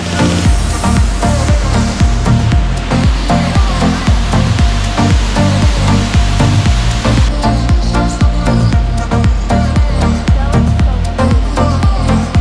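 A waterfall in Vintgar Gorge, Slovenia, roars as a loud, continuous rushing wash of water, close and steady throughout with no talk.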